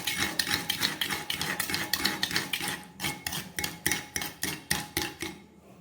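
Yogurt is whisked briskly with salt and black salt in a bowl: a fast, even train of sharp scraping beats, close and distinct, about three per second, with no talking.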